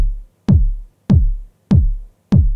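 Body kick layered with the original kick drum in Logic Pro, four punchy, deep hits with a sharp click on the attack and a falling boom, evenly spaced about 0.6 seconds apart, loud and alone.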